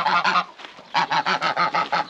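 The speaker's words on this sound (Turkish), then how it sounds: "Kazlarımız." Geese in a hobby poultry coop give a close, loud run of about nine nasal honks in rapid, fairly even rhythm, with a brief softer gap early on.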